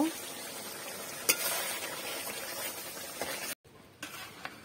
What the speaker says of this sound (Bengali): এই তো সব মশলাগুলো দিয়ে দিচ্ছি, এখন ভালোভাবে কষাই।